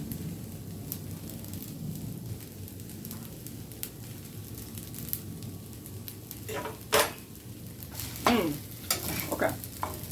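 Ham fried rice sizzles steadily in a pan on the stove, with a spatula scraping and clinking against the metal in a few sharp bursts toward the end.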